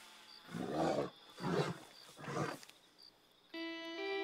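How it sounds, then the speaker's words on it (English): Three long, throaty wild cat roars ring out in the open-world Western game Red Dead Redemption 2, loud and close, before a short steady musical tone takes over at the end. "Is that a cat? They make some ungodly noises."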